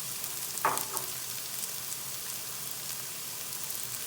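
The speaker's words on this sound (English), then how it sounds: "I am frying the masala." Masala for an Odisha fish curry fries in a pan with a soft, steady sizzle, broken once by a brief clink or stir near the start.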